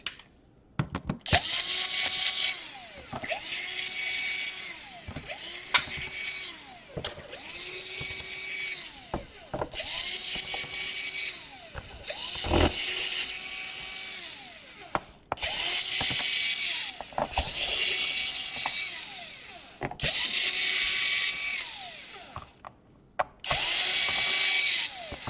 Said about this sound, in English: Let's unscrew every single screw on the bottom.